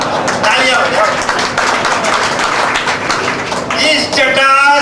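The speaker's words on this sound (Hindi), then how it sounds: "तालियां बजाओ।" Audience at an award event clapping in a dense, steady burst of applause for several seconds, with voices briefly audible at the end as it fades.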